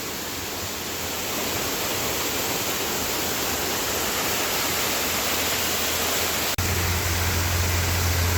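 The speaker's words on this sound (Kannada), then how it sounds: "ನೀರು ನೋಡ್ರೆ ಮಸ್ತ್ ಬೀಳ್ತೈತಿ" Water pouring down a waterfall near Amboli, a steady broadband roar heard alone with no voices, continuous and fairly loud, with a brief bump partway through before a deeper rumble joins.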